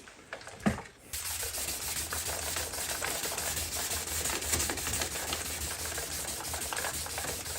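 A car headlight lens being hand-sanded with 2000-grit sandpaper makes a close, continuous scratchy rubbing that runs steadily after a short knock at the start, with no voices.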